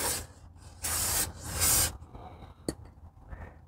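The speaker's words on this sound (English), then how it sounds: "Spray some brake clean on there." Several bursts of hissing aerosol brake cleaner spray on a Ford Flex brake job, two long loud blasts among shorter ones, close up, followed by a sharp click and quieter rustling.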